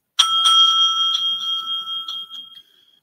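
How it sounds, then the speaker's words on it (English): A timekeeper at a school English debate strikes a bright bell, a ringing ding followed by several quicker taps that ring out and fade over a few seconds in a quiet room. "The timekeeper will ring the bell once to show the start of the preparation time"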